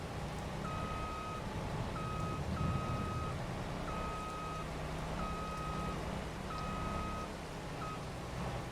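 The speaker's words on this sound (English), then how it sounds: "I don't know why it was beeping at me." A steady electronic beep repeats at regular intervals, like a reversing alarm, over a low engine hum from a farm vehicle in Farming Simulator 22.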